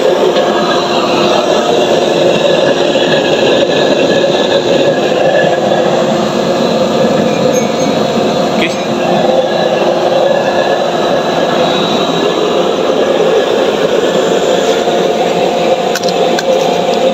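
A pressurized waste oil burner roars loudly and steadily without a break, thick broadband rushing with a few faint clicks, and no voices.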